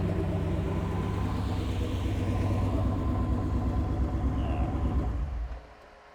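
A turbocharged Corvette engine idles with a steady, low rumble close by, then cuts off near the end and leaves quiet behind it.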